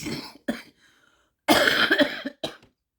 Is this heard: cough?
yes